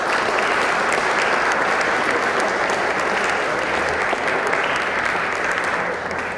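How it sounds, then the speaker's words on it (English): Sustained applause from the audience at a Baltimore City Council ceremony honoring Mikulski, loud and dense, many hands clapping evenly throughout and tapering slightly at the end. "I would like personally today to give them a round of applause"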